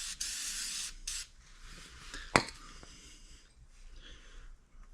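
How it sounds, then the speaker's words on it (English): Short bursts of aerosol spray hiss up close on truck cab mounts, a couple of quick blasts followed by quieter rustling and handling noises. "Let's spray."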